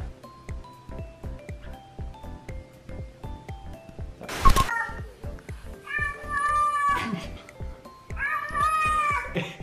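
A house cat meows repeatedly, a few drawn-out wavering cries standing out over a steady rhythmic thumping beat, with a brief loud burst in between; fairly close and clear.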